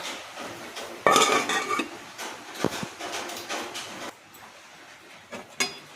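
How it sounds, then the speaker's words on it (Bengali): A lid set onto a cooking pot so the spice mix can steam, a burst of close metallic clatter and scraping, then quieter taps and a final clink. "এরপর মশলাটা সেদ্ধ হওয়ার জন্য আমি এটাকে ঢাকা দিয়ে দেবো"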